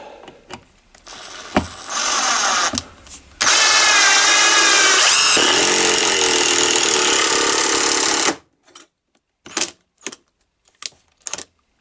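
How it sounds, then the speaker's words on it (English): A Parkside 20V impact driver chatters in a short burst, then hammers away loudly for several seconds drilling through plywood before stopping, followed by a few sharp clicks and knocks. "Now we'll try drilling through the plywood."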